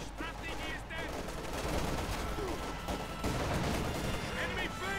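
Video game battle with grenade blasts and rattling gunfire, dense and continuous, with overlapping shots and muffled explosions forming a busy, loud combat din throughout.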